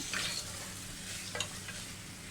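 Chicken sautéed with spice powders in a pressure cooker, a soft short sizzle with a couple of quick scraping stirs, quiet and close, no talking.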